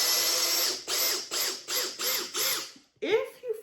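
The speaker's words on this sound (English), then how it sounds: "Out is a little bit more difficult with an impact driver." Impact driver in reverse backing a screw out of wood, hammering in five or six rapid pulsing bursts up close, then a brief sharper whir at the end.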